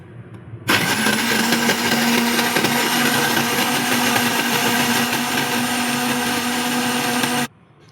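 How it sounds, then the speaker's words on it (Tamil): An electric blender whirs loudly and steadily for about seven seconds, mixing nannari juice with lemon, sugar and water, starting abruptly, holding a constant high motor whine, then cutting off sharply. "தண்ணி ஊற்றி இது பிளண்டர் பண்ணிடலாம்."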